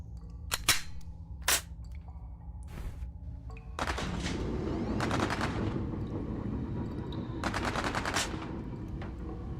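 Gunfire from a customised, zero-gravity gun in a dinosaur-catching video game: a few sharp isolated shots, then dense rapid bursts of repeated firing over a steady rumble, moderately loud.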